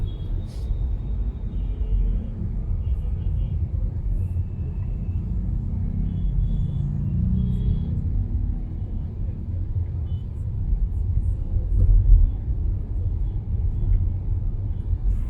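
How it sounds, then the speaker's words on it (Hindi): A Tata Harrier EV on normal highway tyres cruises along, making a continuous low tyre-on-road rumble with steady cabin drone that swells slightly toward the end. Faint, indistinct voices come and go beneath it. "आपके जो नॉर्मल हाईवे टायर है ना वही इतने शोर करते हैं"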